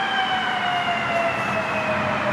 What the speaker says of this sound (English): Thunderbolt siren that was dual tone that would sound like that